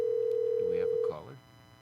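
A steady telephone line tone on a radio show's call-in line for an incoming caller, loud and continuous for about a second before a voice cuts in and talks over it.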